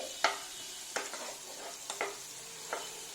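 Fenugreek seeds frying in a pan, a soft steady sizzle broken by several sharp spatula scrapes and stirs spaced about a second apart, close and fairly quiet.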